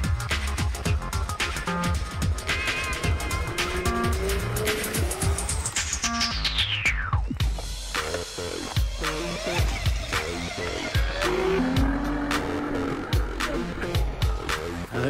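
An electric trial bike spins out on a young riders' practice course, its motor whine sweeping down in pitch amid scattered knocks and scuffs, with faint voices in the background.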